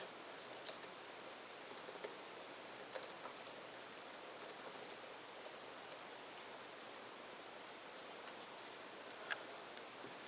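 A 2011 Dell XPS 17 laptop keyboard is typed on in short scattered bursts of faint clicks against a quiet hiss, with one sharper tap near the end.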